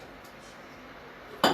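A spoon clinks once against a cup or jar while instant coffee is measured out for a homemade Irish cream, a single short, sharp metallic tap near the end after quiet.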